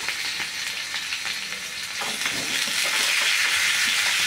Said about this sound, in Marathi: मिरची छान तळून घ्यायची आहे.